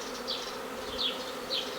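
A swarm of bees hums steadily close by, with several brief louder buzzes as individual bees pass near.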